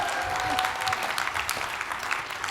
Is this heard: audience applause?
yes